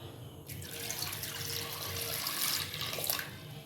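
Water runs steadily from a tap into a cooking pot for boiling potatoes, a continuous splashing gush lasting a few seconds with no voices.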